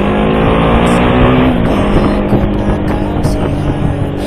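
Small motorcycle, such as a Honda CBR150R, overtaking larger vehicles on a road; loud, close engine roar with rising and falling revs and passing traffic noise throughout.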